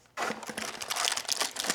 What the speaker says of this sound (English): So I'm just going to undo the tape here.